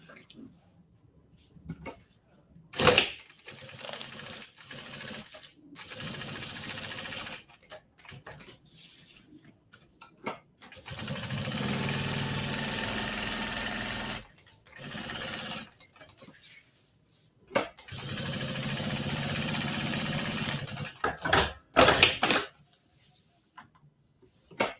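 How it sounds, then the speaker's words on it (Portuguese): A sewing machine stitches a clear-window toiletry bag in bursts of steady mechanical whirring, broken by pauses and faint handling clicks, heard close with no talk. "Eu fiz o desenho aqui e agora eu vou costurar."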